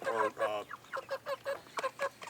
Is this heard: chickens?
yes